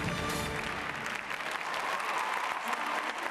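An arena crowd applauds steadily after a gymnast finishes her floor routine at a European gymnastics championship final, with loud, dense clapping throughout and no break.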